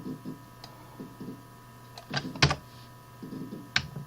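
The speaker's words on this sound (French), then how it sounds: "j'enfonce la touche Shift du clavier" A few sharp key clicks on a computer keyboard, one of them the Shift key, sound close by over a low steady hum. A faint voice murmurs earlier.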